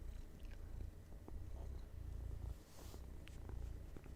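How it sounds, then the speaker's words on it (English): A domestic cat purrs steadily and close by in soft rhythmic pulses, with faint background noise and no talk. "There's the cat saying his hello."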